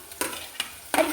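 Finely chopped ginger frying in oil in a pan for seer fish pickle, with three quick scraping stir strokes rising over a low, close sizzle.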